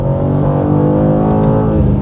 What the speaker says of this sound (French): Moteur 6 cylindres S58, absolument incroyable.